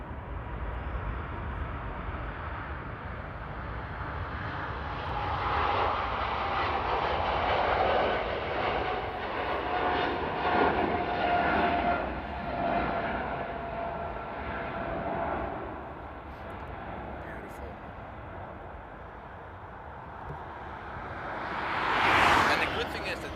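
An airliner takes off at Paris Charles de Gaulle, its broad engine roar holding steady, swelling and easing in waves, then rising to a sharper, brighter peak near the end.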